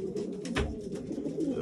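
Racing pigeons in a London loft coo in low, soft, continuous murmurs, several birds overlapping close by in a quiet morning setting.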